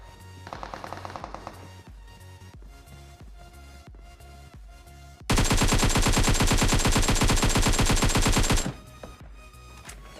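Rapid bursts of AKM rifle gunfire in PUBG, a brief spray early on, then a loud sustained automatic volley for several seconds before cutting off.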